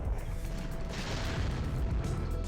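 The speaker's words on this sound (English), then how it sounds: "Why, look, it's our first large explosion" An explosion in the video game Dead to Rights II, on a slaughterhouse level, swells into a broad, rumbling burst with a heavy low end about a second in and keeps roaring fairly quietly to the end, with no talking.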